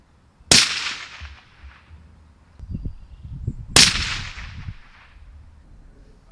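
Two sharp, loud rifle shots ring out from a Remington 783 Varmint bolt-action about three seconds apart, each with a crisp crack and a rolling outdoor echo, with faint handling noise between them.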